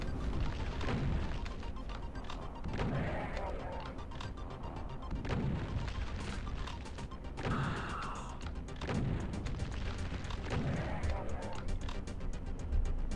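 Repeated booming explosions of lost souls bursting in Doom 2, a series of loud thumping blasts spread through a dense, continuous stretch of game noise with no pauses.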